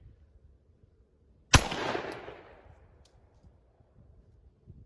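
A single loud, sharp report from a Glock 29 pistol firing 10mm 200-grain rounds outdoors, its echo trailing off over about a second, with quiet background before and after.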